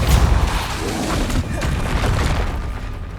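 The Depulso spell cast in Hogwarts Legacy lands as a loud booming burst that rolls into a dense, continuous rumbling blast.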